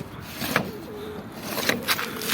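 Pigeons coo softly nearby among a newly bought group of birds, a few brief low murmuring calls over faint scraping and room noise.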